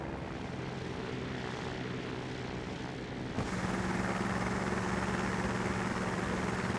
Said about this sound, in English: those engines are literally just there for sound